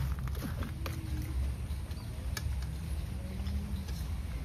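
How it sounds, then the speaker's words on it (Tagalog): Rain falls steadily outside in a backyard as a constant broadband hiss, with faint scattered ticks and patters over it and no pauses. "Umuulan na ata."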